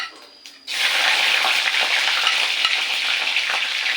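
After a brief quiet moment, fennel seeds and green chillies hit hot coconut oil in a pan and break into a loud, steady sizzle that continues without talk.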